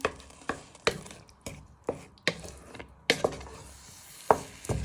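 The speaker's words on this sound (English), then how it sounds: "we're just breaking them all down, giving it a good stir" Wooden spoon stirring and breaking down chopped tomatoes in a pan, with regular sharp knocks and scrapes against the pan roughly every half second over a soft sizzle.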